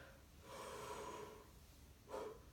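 A deep, drawn-out breath taken during a lesson to expand the body: one long, airy inhale lasting about a second, then a shorter, sharper breath near the end, close and clear with no talking.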